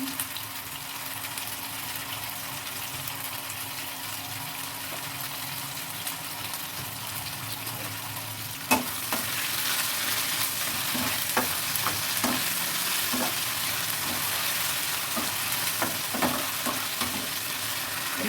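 Potatoes and egg with spice paste frying in a pan, a steady close sizzle throughout with scraping stirs and utensil taps growing busier in the second half, no talking.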